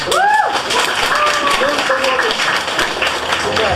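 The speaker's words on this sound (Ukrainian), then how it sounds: "Оплески." Audience applause at a youth journalism workshop event for a prize winner, a fairly loud burst of clapping lasting a few seconds with voices and short exclamations mixed in.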